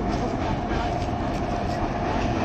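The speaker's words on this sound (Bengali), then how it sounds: "উপর দিয়ে ট্রেন যাচ্ছে, মালগাড়ি।" A freight train rolls past overhead on a bridge in Asansol, a dense, loud, continuous rumble with a steady tonal hum and faint wheel clatter throughout.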